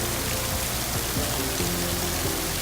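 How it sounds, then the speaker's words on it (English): Heavy rain pours down steadily in Bocas, Panama, a dense, continuous hiss of drops drumming on surfaces nearby, with no other sound standing out. "then it pours rain like this"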